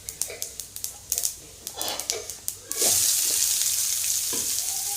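Garlic sizzles in a pan with Kashmiri mustard seeds, with crackling pops and stirring clicks, then onions drop in and a loud, steady hiss of frying takes over.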